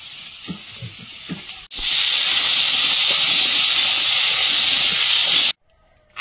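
Fish curry broth boils hard in a pan, a loud steady steamy hiss that starts abruptly after a few soft kitchen knocks and stops suddenly near the end.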